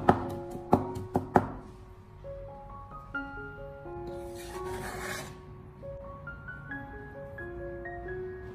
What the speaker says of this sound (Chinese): 准备几个大蒜子，先用刀给它拍一下，最后再剁成蒜末